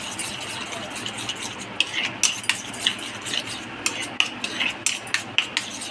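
Mayonnaise and tomato sauce mixed with a spoon in a bowl, a run of close, quick metallic clinks and scrapes over a soft background hiss.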